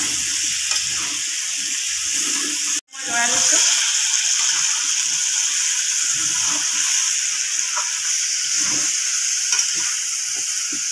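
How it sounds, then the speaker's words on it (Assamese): Pieces of local chicken with potatoes frying in a pan, a loud continuous sizzle with stirring scrapes, cut by a short dropout, then resuming steadily with no talk. "এতিয়া অকণ ভাজি লওঁ"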